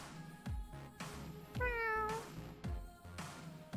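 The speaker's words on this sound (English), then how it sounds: "It's a cat!" A single drawn-out cat meow rises clearly in the middle, set against rhythmic low thumping music that keeps a steady beat.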